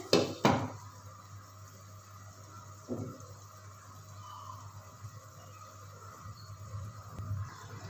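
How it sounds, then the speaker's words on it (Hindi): A lid lands on a pan of okra and potatoes with a sharp metallic clank, followed by a softer knock a few seconds later over a steady stove hum. "तो अब हम इसको 5 मिनट के लिए कवर करते हैं।"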